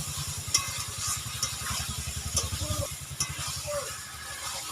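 Marinated potatoes sauté in a pan, a steady close sizzle and crackle with a low rhythmic rumble beneath it and occasional clinks, continuing without talk.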